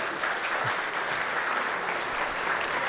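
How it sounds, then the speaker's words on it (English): An audience claps in a steady round of applause, dense and continuous at moderate loudness, with no voices over it. "Round of applause."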